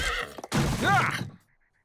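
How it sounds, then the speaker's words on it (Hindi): A cartoon horse gives a loud, close neigh with a rising then falling whinny, cut short and followed by faint high tones as it fades out. "टैलेंटेड घोड़ा है ये।"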